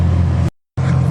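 A Bugatti Chiron Pur Sport pulling away, its engine giving a loud, steady low rumble heard from close by, broken by a brief total dropout before the drone resumes.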